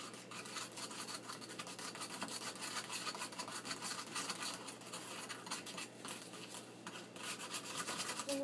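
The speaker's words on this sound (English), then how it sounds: "Get that nice and whipped up." Hair bleach mixture being whipped in a bowl to a creamy consistency, a steady close scraping and swishing of the brush against the bowl, continuous for several seconds with no talk.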